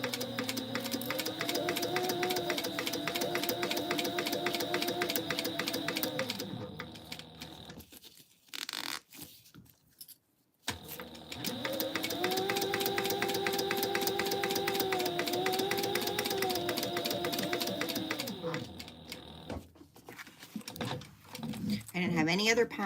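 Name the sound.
sewing machine stitching fabric tote bag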